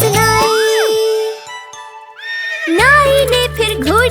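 Cartoon horse neighing with rising and falling whinnies over jingling, tinkling music in a Hindi children's rhyme, with clip-clop hoofbeats and a running horse in a bright, layered mix.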